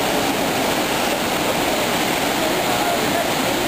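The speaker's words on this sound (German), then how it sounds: "Der Wasserfall Savica befindet sich im Triglav Nationalpark" Savica waterfall in Triglav National Park, Slovenia, roars as a dense, steady rush of falling water, loud and unbroken throughout with no other sounds standing out.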